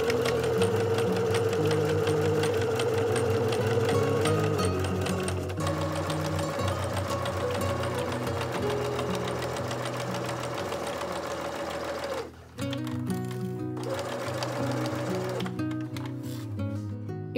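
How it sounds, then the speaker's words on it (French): Sewing machine stitching quilting on a fabric bag, running in long steady bursts with a loud motor whine and rapid needle rhythm, briefly pausing near the end before resuming. "je rabaisse mon pied presseur et je continue la couture"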